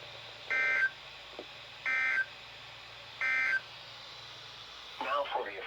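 Three identical steady electronic tones from a NOAA weather radio test alert, evenly spaced about a second and a half apart, each lasting roughly a third of a second over a low hum, followed by the start of broadcast speech.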